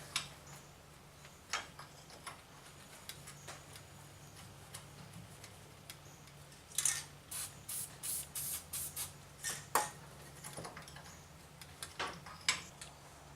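Short hissing spray bursts of lubricant from a spray can, quiet and close, fired in a quick run of brief blasts after scattered faint ticks and clicks, during ball joint and bearing work on an 05 GMC Sierra 1500 4x4.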